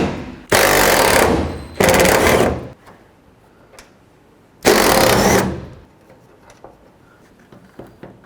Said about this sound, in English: open this one with a T30 Torx, remove these 2 screws that hold it in.